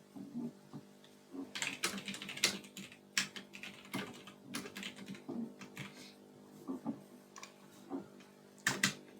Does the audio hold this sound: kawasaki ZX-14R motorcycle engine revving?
no